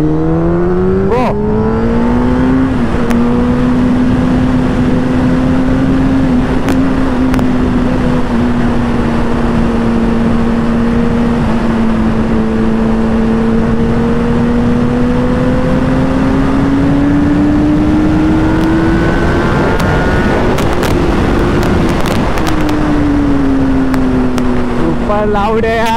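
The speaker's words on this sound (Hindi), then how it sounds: "लाउड है यार, क्या लाउड बाइक है।" A Kawasaki ZX10R superbike engine, around 207 bhp, revs loud and high through a long acceleration run, its pitch rising and falling across gear changes, steady and close throughout.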